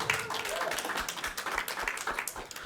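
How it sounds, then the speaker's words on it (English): Panel discussion audience at a feminist film festival event gives a brief, moderately loud round of applause for the panelists, a continuous patter of clapping filling the short stretch. "round of applause for the panelists"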